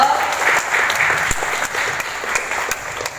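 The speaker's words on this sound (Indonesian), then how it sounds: "Salut dong untuk cewek, tepuk tangan dong." A hall audience at a student legal-awareness ambassador contest applauds the female participants, with steady, fairly loud clapping that runs throughout, individual claps standing out crisply within the crowd.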